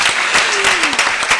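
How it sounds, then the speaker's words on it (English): Brief burst of dense audience applause at an academic talk on community justice, loud and continuous with a voice faintly underneath. "So let's give her a round of applause."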